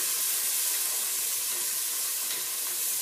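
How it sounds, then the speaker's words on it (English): Water poured into a hot pan of tomato paste, a steady broadband hiss and sizzle filling the whole moment, close and continuous with no voices. "And we're going to add some water as well"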